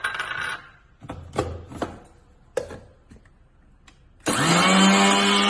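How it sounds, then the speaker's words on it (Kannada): A mixer grinder powders cardamom pods with sugar, first with a few short bursts and rattles, then a loud, steady high-pitched whirring blast close by. "ಏಲಕ್ಕಿ ತಗೊಂಡಿದ್ನಲ್ಲ ಐದು ಏಲಕ್ಕಿ ಸಕ್ಕರೆ ಒಂದು ಬಟ್ಲು ಮಿಕ್ಸಿಗೆ ಹಾಕ್ತಾ ಇದ್ದೀನಿ ಪೌಡ್ರ್ ಮಾಡ್ಕೊತೀನಿ"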